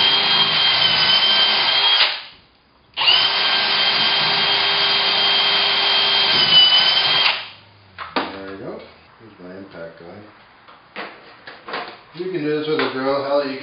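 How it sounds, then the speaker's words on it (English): An impact gun driving screws into wood for mounting a ceiling bike hoist, two loud whirring bursts with a brief pause between them, then someone talking close by. "Impact guns are my favorite, so that's how I'm doing this."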